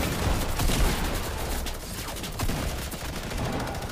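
Gunfire in the Fortnite video game, dense and continuous across the stretch with repeated sharp cracks layered over a busy, loud game mix and no clear talk.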